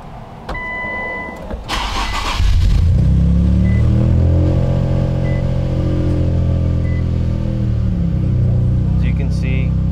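An Infiniti Q50 or Q60 fitted with an aftermarket transmission mount cranks briefly and fires up, settling into a steady, smooth idle close by after a short clatter of handling noise.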